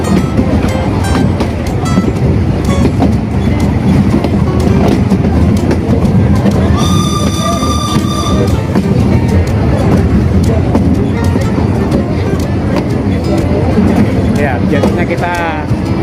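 Steam train ride on the Ambarawa–Tuntang line, a steady loud rumble of carriages rolling along the rails with a brief high whistle-like tone midway, under ongoing chatter of passengers.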